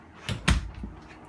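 A large kitchen drawer in a 2017 Sandpiper 389RD RV, beside the stove, slides and thuds shut with a couple of short wooden knocks, close by and moderately loud, with no talking.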